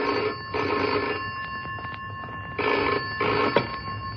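A telephone rings in bursts, two long double trills separated by a pause, fairly loud and alone over a low background hum.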